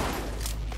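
A brief, loud burst of rapid automatic gunfire from PUBG Mobile fills the moment, dense and close with no pauses.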